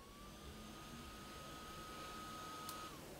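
A RedMagic 5G phone's built-in cooling fan spins at high speed, a faint steady whir with a thin rising tone held through, very quiet and alone.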